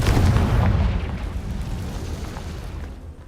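A booming explosion from the Confringo blasting spell in Hogwarts Legacy, with a loud low rumble up front that trails off over a few seconds into a fading roar.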